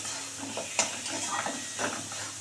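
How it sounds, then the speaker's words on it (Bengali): Ghugni masala with garlic and ginger being sautéed in a pan, a soft steady sizzle with a few scraping stirs of a spoon against the pan over a couple of seconds, no voices. "এটাকে আমি খুব সুন্দর করে কষাবো"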